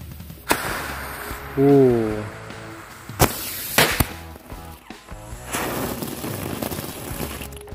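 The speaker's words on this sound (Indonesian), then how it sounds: "Berhasil menyala mercon tank baja." A tank baja firecracker lit in the late afternoon, with a few sharp loud bangs and cracks standing out over a background of talk and a short rising tone, then scattered rustling.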